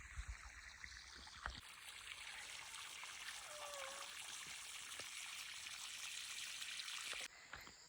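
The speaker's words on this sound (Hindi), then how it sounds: "अभी देखिए कितना अच्छा पानी आ रहा है यहाँ पर, बिल्कुल शुद्ध पानी" Tap water runs and trickles in a steady thin stream, moderately close, continuing almost the whole time with a brief change near the start and a cutoff shortly before the end.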